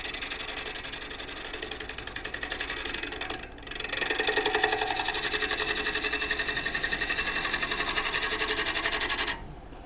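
A wood lathe spins a green wood bowl blank while a bowl gouge cuts at the side of the shoulder, giving a steady whirring drone with a rhythmic pulse that briefly dips, then grows louder and fuller before stopping abruptly.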